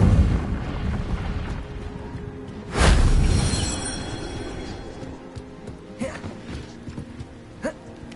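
An Incendio fire spell cast in the Hogwarts Legacy video game: one loud whooshing burst of flame about a third of the way in, fading over a couple of seconds into quieter game ambience with small later pops.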